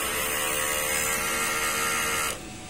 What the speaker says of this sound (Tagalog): mag-head clean tayo